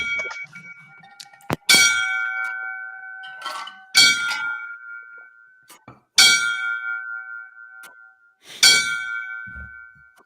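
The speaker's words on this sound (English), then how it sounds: "I'm gonna give the old 5 bells." A bell struck with sharp metallic clangs for a moment of silence, four or five ringing strikes spaced about two seconds apart, each decaying slowly with a bright lingering tone, heard clearly with no talk over them.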